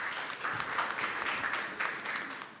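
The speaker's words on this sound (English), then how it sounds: "So let's give a round of applause for them." An audience at a university waste-management challenge event claps for a group of environmental engineering master's students, sustained scattered applause at moderate volume across the whole stretch.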